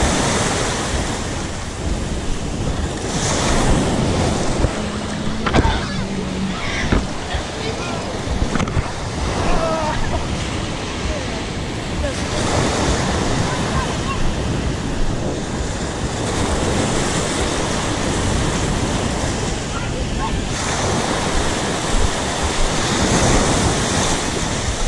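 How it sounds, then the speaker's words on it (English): Choppy ocean water washes and slaps around a boat off Miami or Fort Lauderdale in a continuous loud rush with heavy wind buffeting the microphone throughout. "the water's a little choppy"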